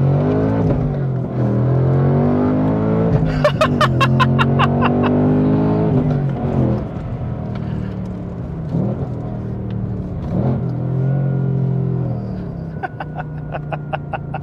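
A Ford Mustang Dark Horse V8 with manual gearbox revs up and down repeatedly, its deep engine note rising and falling in pitch through several gears, loud and close throughout with no talking.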